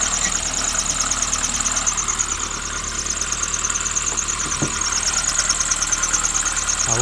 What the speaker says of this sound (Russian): Это свистит либо слабо затянут ремень генератора